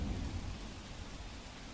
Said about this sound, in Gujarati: ગત રાત્રિથી જે વરસાદ વરસી રહ્યો છે